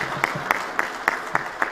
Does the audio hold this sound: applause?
yes